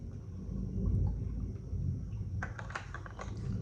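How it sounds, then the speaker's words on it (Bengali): A low, distant rumble of thunder rolls on faintly, joined near the end by some light clicking noises. "তা মেঘ ডাকছে, আমি বললাম মেঘটা ডাকছে এখন"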